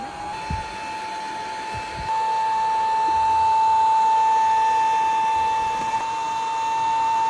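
An electric air pump inflating a mattress whirs with a steady high-pitched hum, switching on after a couple of faint clicks and running continuously at close range.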